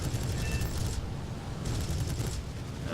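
An aircraft tail gunner fires a machine gun in War Thunder arcade battle: a dense, continuous rattle of rapid fire that pauses briefly and resumes, loud and close.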